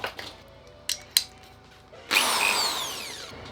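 A few clicks and knocks, then a power drill whirs up and runs steadily for over a second before stopping, during van rust repair work.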